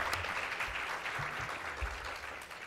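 A convention audience claps for the event volunteers, a dense and steady patter of many hands lasting about three seconds at a moderate distance.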